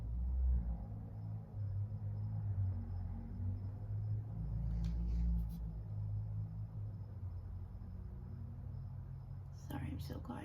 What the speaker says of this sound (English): I hope you don't hear the cars outside, but I have my window open.